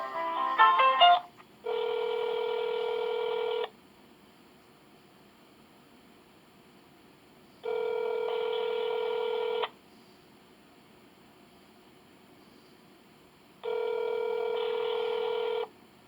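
Telephone tones sound during a call transfer to a ShoreTel voicemail system: three steady two-second electronic beeps repeat about six seconds apart over a faint line hiss, after a brief burst of garbled sound.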